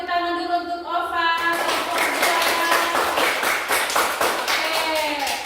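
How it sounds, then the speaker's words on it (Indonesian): A classroom claps for a student in a short burst of many hands, mixed with a teacher's voice talking before and over the clapping. "tepuk tangan dulu untuk Ova"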